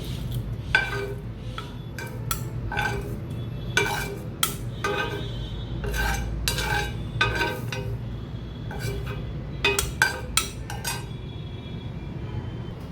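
Cooled roasted spices for a Maharashtrian egg curry scraped and tipped into a mixer jar, with a series of sharp metallic clinks and taps of spoon against steel over a low background hum.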